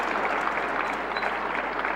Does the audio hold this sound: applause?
yes